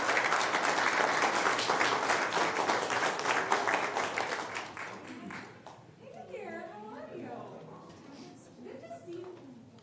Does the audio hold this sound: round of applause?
yes